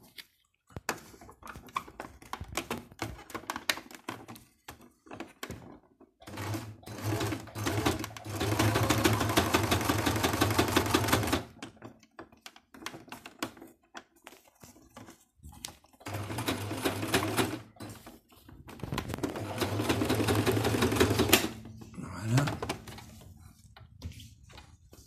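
A domestic sewing machine stitching elastic onto a fabric face mask whirs loudly in two long runs of steady, rapid stitching, separated by quiet stretches of soft fabric handling and clicks.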